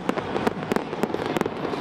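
Fireworks burst in a quick series of sharp crackling pops over a steady hiss, fairly loud and close, with no one speaking. Heard around the start of a college football season for the Arizona Wildcats.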